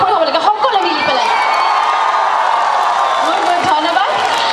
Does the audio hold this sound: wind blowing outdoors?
no